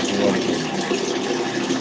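Water pouring steadily from a tap, a continuous close, loud rushing hiss with no pauses and no voices.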